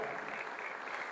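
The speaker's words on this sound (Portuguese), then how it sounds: "eu queria uma salva de palmas a Jesus por cada professor" A church congregation gives steady applause in honor of teachers and assistants, a dense wash of clapping with no break, filling the space for just over a second.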